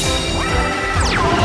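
Summoning effect from the Yu-Gi-Oh Duel Links video game: a loud crashing smash with rising sweeping tones, steady and continuous for about a second and a half with no talk.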